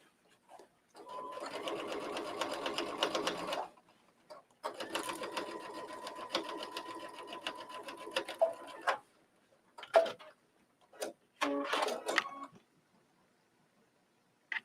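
A sewing machine running a seam around a curve on black fabric for an invisible zipper, several whirring bursts of a few seconds each, the last ones shorter with quiet pauses between.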